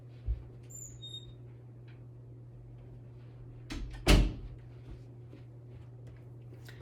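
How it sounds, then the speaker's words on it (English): A room door swings shut with one sharp, close thud, preceded by a softer bump of handling, over a steady low electrical hum and quiet room noise. "Let me shut my door really quick"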